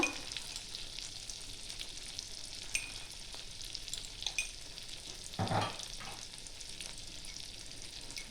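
A spice paste of ground coriander, turmeric and chili fries in a pan for an elephant-foot yam curry with hilsa fish head, giving a fairly quiet, steady sizzle with intermittent spatula scrapes and one louder stirring burst.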